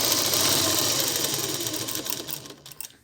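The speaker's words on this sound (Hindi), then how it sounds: "इस तरह देखिए मैं आपको सिलाई को लगा कर भी दिखा देती हूँ।" A sewing machine runs steadily while stitching the hem of a folded salwar, a continuous close whirring that loosens and turns choppier near the end.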